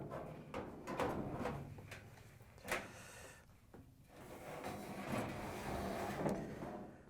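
Hollow metallic bumps, scrapes and rubbing clatter as a Frigidaire dryer drum is shifted and maneuvered back into the dryer, with uneven knocks throughout.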